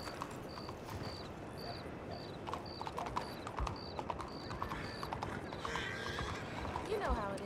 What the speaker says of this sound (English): Julian and giddy up.